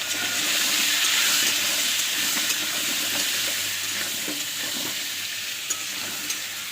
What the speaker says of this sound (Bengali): আরও কড়াইতে দিয়ে দিয়েছি আলুতে সামান্য একটু হলুদ দিয়ে দেবো